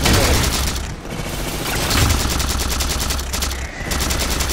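Loud, sustained rapid-fire gunfire from the Halo 4 campaign, with dense automatic bursts and two brief gaps, and no talk over it.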